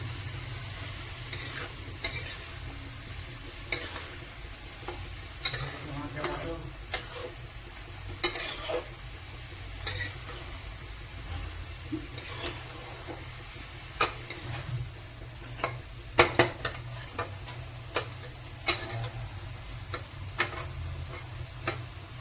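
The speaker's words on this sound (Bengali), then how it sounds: "এখন ভালো করে মশলার সাথে মিশিয়ে নিতে হবে" Lentils stirred with spices in a hot pan for masoor dal egg tarka, sounding as a low steady sizzle broken by repeated sharp clicks and scrapes of a spoon against the pan, close and without speech.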